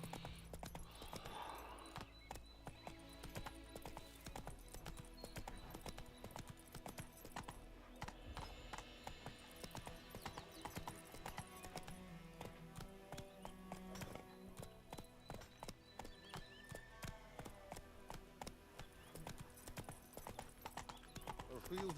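Hooves of Roach, Geralt's horse in The Witcher 3, clip-clop steadily in a continuous rhythm throughout, close and clear under game music and a voice speaking over the ride.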